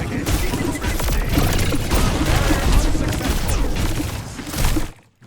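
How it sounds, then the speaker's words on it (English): Rapid automatic gunfire from Torbjorn's turret in the Overwatch video game, dense loud bursts with cracks and impacts through most of the stretch, mixed with other battle noise and voices, ending abruptly. "if Farah comes up, she gets shot by the turret"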